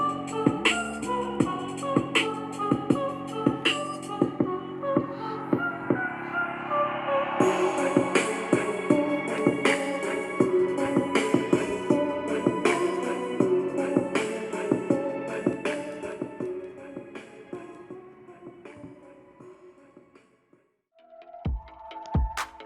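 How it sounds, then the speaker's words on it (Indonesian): Left speaker of a Robot RB420 Bluetooth speaker playing a song, full-band music with steady rhythm that carries on for most of the stretch, then briefly drops out before resuming near the end. "Nah, itu dia hasil suara dari RB420 ini."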